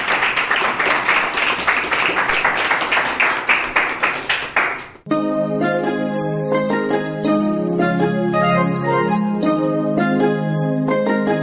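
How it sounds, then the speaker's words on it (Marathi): Loud audience applause at a one-year anniversary celebration for Sankalp Creations, with rhythmic clapping that stops abruptly as a song with music and singing begins. "एकदा जोरदार टाळ्या द्या"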